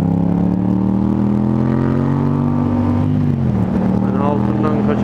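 Motorcycle engine running steadily while being ridden in fourth gear in December around Sinop, a loud continuous drone with a shifting pitch, wind noise throughout and someone talking over it.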